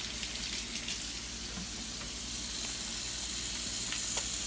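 Tap water runs in a kitchen sink while raw chicken is washed for homemade spicy chicken sandwiches, a steady close hiss with light splashes and faint clinks throughout.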